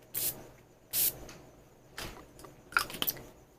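Makeup setting spray is misted onto a face in about four short, close hissing bursts separated by brief pauses, with faint handling clicks near the end.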